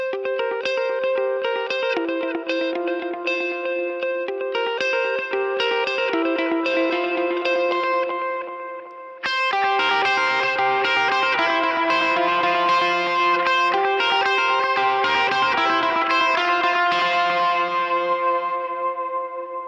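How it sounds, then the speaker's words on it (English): Electric guitar through filter, grit and modulation effects, ringing in layered, shimmering note patterns with echo and chorus-like wash. A brief dip near the middle is followed by a fuller, denser passage. "It's a little bit of a filter and grit and little mod mixed in."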